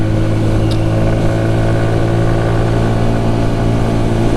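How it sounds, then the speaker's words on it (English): A CF Moto Papio 125 mini motorcycle engine runs steadily with a throaty exhaust drone, loud and close, holding a constant pitch without voices. "Bike sounds good, exhaust sounds good, no rattles, no creaks."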